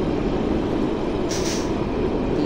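A Class 385 electric train in Overground livery runs in a train simulator game, giving a steady rumbling rolling drone with a brief high squeal partway through, no voices.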